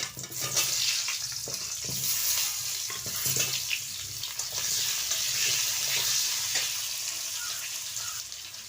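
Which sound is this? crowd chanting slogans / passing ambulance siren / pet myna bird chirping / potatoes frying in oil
potatoes frying in oil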